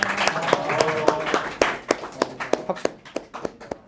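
A small seminar audience applauds, a short loose burst of clapping that thins into scattered individual claps tapering off over a few seconds, fairly close and unaccompanied by talk.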